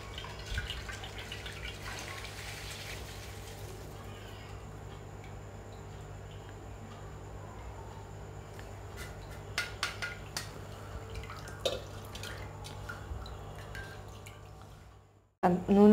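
Homemade herbal hair oil trickles through a filter in a home kitchen, a faint steady background with occasional small drips and light clinks of utensils, ending with a brief louder knock.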